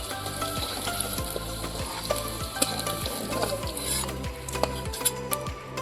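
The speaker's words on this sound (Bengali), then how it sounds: "এই দেখো আমরা আলুটা ভাজা করে নিচ্ছি, কি সুন্দর আলুটা ভাজা হচ্ছে" Potatoes frying in hot oil give a dense, continuous sizzle with frequent crackles and spatters, joined by a steady low rhythmic mechanical hum underneath.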